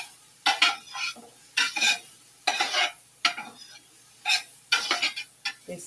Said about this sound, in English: These are the onions caramelizing.